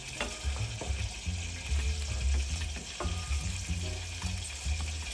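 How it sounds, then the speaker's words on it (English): Five cloves of garlic sautéing in hot oil, a strong close sizzle with repeated stirring scrapes and light clinks from the pan. "Now let's saute the garlic."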